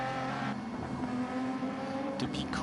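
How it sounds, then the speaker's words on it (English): A BMW M4 race car engine revs high in a racing video game at Interlagos, a steady, droning engine note held throughout with a brief sharper burst near the end. "Looks like he's revving the BMW a bit too high."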